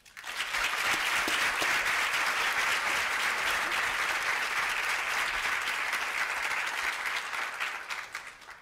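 Audience applause welcoming Kenneth Cole and Amy Levin at a business school event, a steady full room of clapping that swells quickly, holds evenly, then tapers off at the end.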